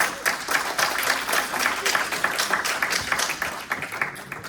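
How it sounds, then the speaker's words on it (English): Audience applause at an evening beauty-product company presentation in Irvine, steady dense clapping throughout with a few voices mixed in. "So let's give all the team leaders and higher a big round of applause."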